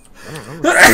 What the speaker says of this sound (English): I don't know why I sneezed like that